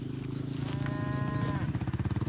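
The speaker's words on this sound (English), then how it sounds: "Our cows, rather than being housed through the winter, are out on the fields all year round." Cattle from a herd kept outdoors on farm fields all year round on Cotswold Brash, lowing in a long, loud moo over a steady low rumble of the herd.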